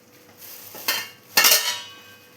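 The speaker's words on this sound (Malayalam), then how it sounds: "മൂടി ഒന്ന് തുറന്ന് നോക്കാം." A cooking pot's lid is lifted off chicken curry simmering in coconut milk, giving two quick metallic clinks and scrapes close up against a quiet background.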